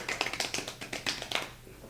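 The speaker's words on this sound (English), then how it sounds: "I like how we're so in sync with the claps." Two podcast hosts clap together in a quick, fairly even run of sharp hand claps, close and moderately loud, trailing off at the end with no talking over them.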